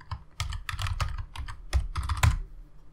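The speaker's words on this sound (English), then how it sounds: "I'm going to type in yes" Quick typing on a computer keyboard at an SSH terminal: a short burst of crisp, close keystrokes in an uneven rhythm, heard alone.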